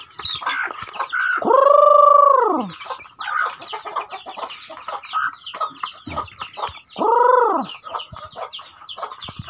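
Chickens cluck and call near at hand, with newly hatched chicks peeping steadily, two long drawn rooster-like calls rising over the busy flock chatter; no speech.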